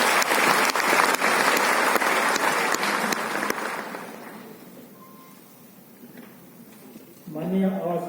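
Audience applause welcoming a speaker at a ministerial foundation day ceremony, loud sustained clapping from a large crowd that gradually thins and fades, with a voice starting to speak near the end.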